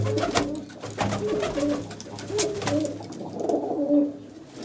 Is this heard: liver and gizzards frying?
no